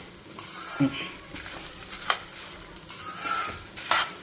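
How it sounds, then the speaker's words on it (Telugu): Dried red chillies and cumin seeds frying in a pan, a close crackling sizzle with sharp spoon-against-pan clinks and stirring scrapes, in short bursts. "చూడండి ఎంత బాగా వేగుతున్నాయో"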